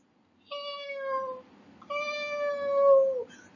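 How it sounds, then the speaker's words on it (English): Two long, plaintive cat meows, close and clear, separated by a short pause, in an otherwise quiet room. "I think I have a cat here. Do you know why I know? Because I can hear the cat"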